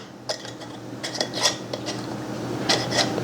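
Metal canning lids and screw rings set onto glass jars while canning chicken stock, a few light clinks and scrapes of metal on glass, close and quiet, with no talk.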